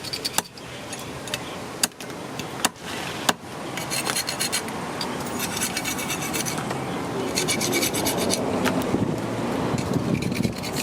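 A mangrove mud crab is scrubbed and scraped clean, making a steady, close rasping scrub punctuated by a few sharp knocks and clicks.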